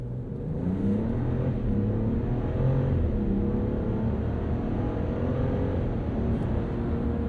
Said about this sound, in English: Let's go back into automatic and we'll do an acceleration here.